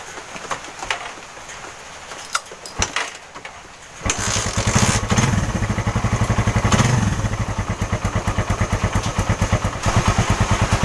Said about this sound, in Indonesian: Sekarang akan saya engkol dulu karena starternya akinya tidak hidup,